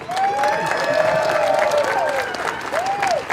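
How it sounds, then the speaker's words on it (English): Crowd applause at a ride premiere ceremony at Kings Island amusement park, sustained clapping and light cheering with whistling tones drifting over it, fairly loud and continuous. "give him a nice round of applause"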